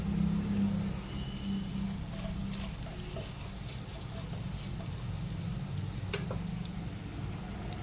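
Cumin and mustard seeds, with a pinch of asafoetida, sizzle in hot oil, making a steady, close crackle that holds throughout, with a few faint pops and clinks.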